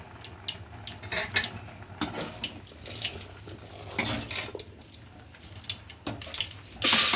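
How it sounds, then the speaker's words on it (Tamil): Mustard seeds splutter and crackle in hot oil while tempering for a potato curry, with irregular sharp pops and bursts over a steady frying hiss, close and fairly loud, with no talking. "கடுகு பொரியுது பாருங்கோ ஆயிலில்"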